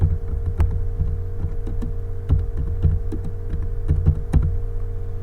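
Fingers typing on a computer keyboard to enter spreadsheet text, a run of light, irregular key clicks over a steady low hum.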